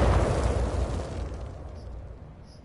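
A single loud grenade explosion in a video game, a heavy low boom that rolls off and fades over a couple of seconds.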